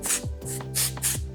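Hair texture spray hisses from a can in several short bursts of about a quarter second each, close and fairly loud, with no speech.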